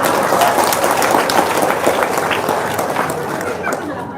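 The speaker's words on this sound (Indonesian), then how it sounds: "Tepuk tangan dong." Audience applause at a gathering, a dense wash of clapping mixed with crowd chatter and voices, fairly loud and fading slightly toward the end.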